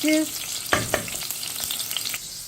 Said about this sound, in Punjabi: ਆਇਲ ਹੋ ਗਿਆ ਸੀ ਗਰਮ ਸੋ ਸਾਰੇ ਅਨੀਅਨ ਮੈਂ ਕੜਛੀ ਵਿੱਚ ਪਾ ਲਿਆ